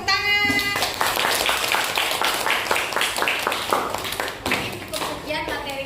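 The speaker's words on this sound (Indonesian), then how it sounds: "Beri tepuk tangan." Students in a classroom clap together, a brisk train of distinct hand claps that settles into a roughly regular rhythm over several seconds, with a voice heard briefly at the start and near the end.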